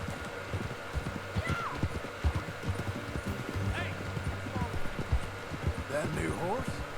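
Horse hooves clip-clop steadily in Red Dead Redemption 2, a brisk rhythmic trot close by, with people talking over the hoofbeats throughout.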